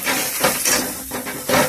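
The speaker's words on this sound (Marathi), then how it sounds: "गावाकडची फोडणी जबरदस्त असते" Spices crackle and sizzle in hot oil for a village-style tempering, a loud close hiss that surges in uneven bursts.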